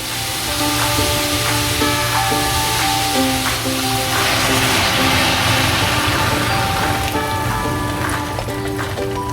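Milk hisses and sizzles steadily as it is poured into a hot pan of carrots for carrot halwa, a dense crackling spray with a low steady hum underneath.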